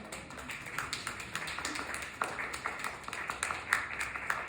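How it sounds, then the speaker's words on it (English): Audience applause at a reception for a Korean ink-painting exhibit, a small group clapping in a rhythmic patter of distinct claps, fairly faint and somewhat distant, continuing steadily without speech. "Let's give them a big round of applause."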